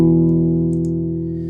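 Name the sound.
amp distortion effect from the Trash plugin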